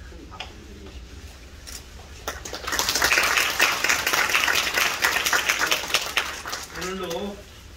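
Audience applause and clapping follow the curtain call of the stage play Orphans, rising from scattered claps into full, dense applause in the theatre hall, with voices audible around it.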